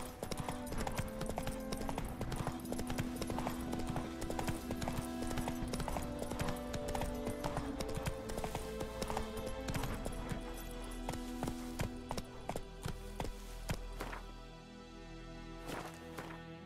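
The horse Roach's hooves clip-clop steadily on the ground in The Witcher 3, a continuous trotting rhythm over in-game music and ambience that thins out near the end.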